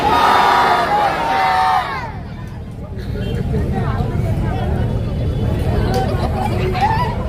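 A large rally crowd roars back in unison after a Takbir call, a loud massed chant that fades into steady outdoor crowd babble and hubbub.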